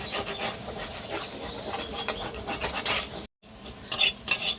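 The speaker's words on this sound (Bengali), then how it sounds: "আর দেবো অল্প একটু গোলমরিচ গুঁড়ো দিয়ে এবার ভালো করে আমি ভেজে নেব" Egg seasoned with black pepper fries in a wok over high flame, a spatula scraping and clinking against the metal in brisk, uneven strokes over a soft sizzle, with one brief break.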